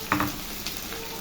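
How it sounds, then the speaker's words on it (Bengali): Fish and taro frying together in spice paste, a brief sizzle with a couple of quick stirring scrapes, close and fairly loud, no talking. "এখন আমি মাছটা আগে দিলাম, মাছ ভাজাটা আগে দিলাম, তারপর দিয়ে দিলাম কচুটা"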